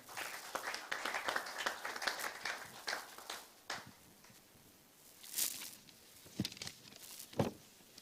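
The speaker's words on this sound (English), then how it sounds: "Please, a round of applause for her." Scattered applause from an audience at a technology forum, thin and uneven with bursts of clapping rising and fading, fairly quiet overall.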